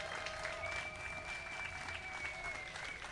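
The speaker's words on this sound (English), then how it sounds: "Clap even louder for Walida and Marisha, everybody." A crowd claps steadily at a memorial art unveiling, an even mid-loud wash of applause with a long whistle or cheer running across it and faint voices beneath.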